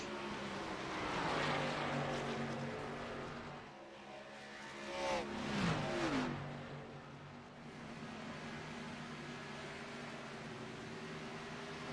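Race cars passing on pit road at Daytona in iRacing, NASCAR-style engines droning with a couple of distinct pass-bys that swell and fade around the middle.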